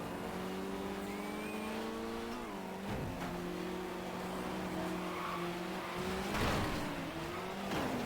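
Rally cars race in Sega Rally Revo, with a Lancia Stratos and an Audi close by: steady loud engine drone with shifting pitch, gear changes and brief tire scrabble, continuous throughout without talk.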